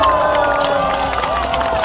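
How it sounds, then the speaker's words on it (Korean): At an outdoor political rally by Geumneung Station, a crowd roars with cheering and applause, a dense wash of shouts and clapping in a brief, loud burst. "뜨거운 함성과 박수 한번 쳐보면 좋겠습니다"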